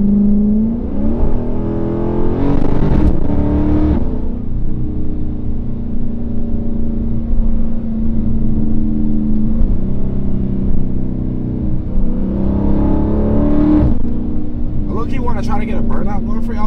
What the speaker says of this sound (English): Trying to get a burnout going for y'all boys.